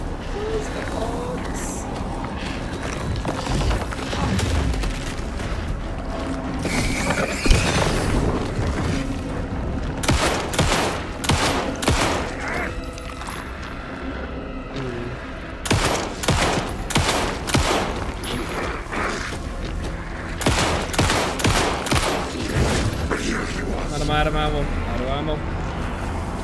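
Gunfire in the survival horror game Alan Wake 2 rings out in rapid bursts of loud close shots with booming impacts, while a player talks over the action.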